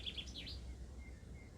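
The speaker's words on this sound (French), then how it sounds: "le bruit des oiseaux qui chantent" Small birds chirp and tweet outdoors in a brief burst of high, quick calls, fairly faint and distant over a steady low rumble of wind and ambient noise.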